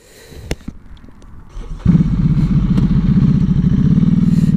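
Motorcycle underway on a road: a low engine rumble that suddenly grows loud and steady, close to the microphone with a throbbing pulse, after a few clicks and clatters at the start.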